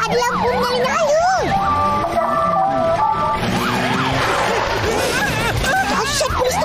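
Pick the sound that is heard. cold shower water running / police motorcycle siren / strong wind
police motorcycle siren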